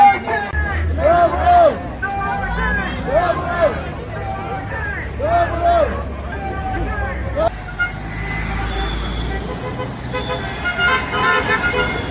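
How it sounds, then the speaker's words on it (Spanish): Passing cars on a road sound their horns in support of demonstrators waving English and British flags, repeated toots ringing over a crowd's murmur and traffic noise. "piden a los coches que pasan que toquen la bocina en señal de apoyo"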